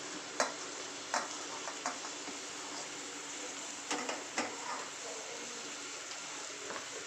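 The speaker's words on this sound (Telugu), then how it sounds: "ఆయిల్ వేడెక్కింది. ఇప్పుడు ఉల్లిపాయలు వేసుకుందాం, అలాగే పచ్చిమిర్చి, అలానే కరివేపాకు." Onions, green chilies and curry leaves crackle in hot oil while a keema curry is cooked, a low steady sizzle broken by sharp pops and stirring clatters at irregular intervals, close up with no talk.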